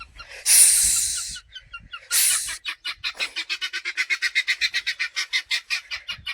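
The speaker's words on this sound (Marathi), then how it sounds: "कोंबडं वरडलं." A rooster kept on a farm alongside turkeys and other animals lets out two loud, harsh bursts up close, then a fast, evenly pulsing run of calls that holds steady to the end.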